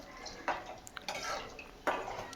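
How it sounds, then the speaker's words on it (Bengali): Spatula gently stirring gulab jamun as they fry over medium flame in a pan, giving a few soft scraping clinks at a slow, irregular pace against a faint steady sizzle. "খুব সাবধানে খুন্তিটা নাড়াচ্ছি আমি, যাতে ভেঙে না যায়"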